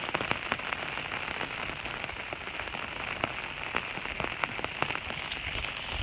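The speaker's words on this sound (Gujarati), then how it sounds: "આ ચાલુ વરસાદમાં મિત્રો વિડીયો બનાવી છે" Continuous rain falls on a village farm nursery in Gujarat, a soft, even patter with scattered sharper drip ticks and no voices.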